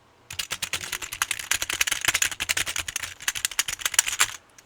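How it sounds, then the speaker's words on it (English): Close, crisp clatter of computer keyboard typing, a fast irregular run of key taps that starts abruptly, continues for several seconds, and stops cleanly, with no voices. "That's what your keyboard sounds like."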